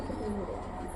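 A female pigeon gives a single short, soft coo, close by and alone with no other sounds.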